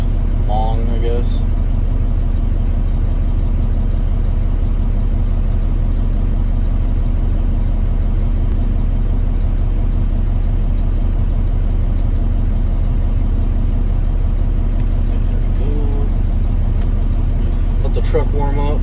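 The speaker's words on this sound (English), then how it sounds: "Truck warm up." A garbage truck engine idles steadily as it warms up early in the morning, a loud, constant low rumble that runs throughout with little change.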